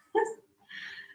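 A large 80-pound dog on a yoga mat gives a short, close bark or yip, followed by a softer, higher whine.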